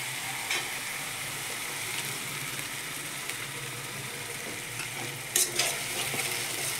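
Masala spices sizzle and fry steadily in a pan while being stirred, a continuous close hiss broken by a few scraping clinks of the spoon near the end.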